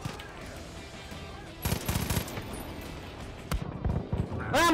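Gunfire in Far Cry 5 comes in several rapid bursts of loud, punchy shots separated by short gaps, mixed with game ambience and occasional talking.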